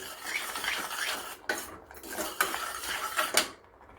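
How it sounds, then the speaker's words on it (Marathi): Carrot halwa with cashews, almonds and pistachios is stirred in a pan, a metal spoon scraping and clinking against the pan in repeated close strokes, with brief pauses between them. "हे छान मिक्स करून घ्यायचे आणि थोडंसं आपण घट्ट होईपर्यंत आपण हे शिजवून घेऊया."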